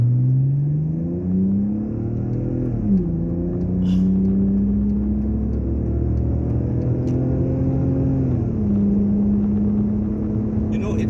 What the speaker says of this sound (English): it's all better today because I'm driving the E46